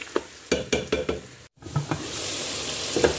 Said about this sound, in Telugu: ఇప్పుడు మ్యాగ్నేట్ చేసిన చికెన్ దీంట్లో వేసుకుందాం.